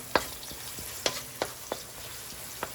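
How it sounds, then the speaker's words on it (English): Pink Himalayan salt being stirred into a sizzling plant-based bolognese in a pan, a steady low fry with several sharp scraping clicks of the spoon at irregular intervals. "Mix that in a little bit."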